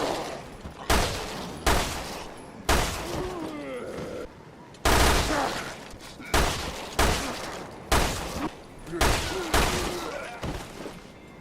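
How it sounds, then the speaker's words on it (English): A machine pistol firing accurate fire at an afflicted enemy in the video game Resident Evil Revelations 2: about ten loud, close shots at a steady pace of roughly one per second, each with a short ringing tail. "let's test the machine pistol accurate fire on an afflicted."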